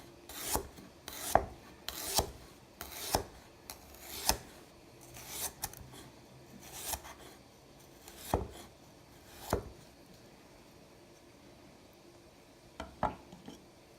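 Knife chopping through red radishes, held by the root, on a cutting board: a dozen or so crisp, separate cuts spaced about a second apart, then a couple of quicker taps near the end, close and clear with no talking.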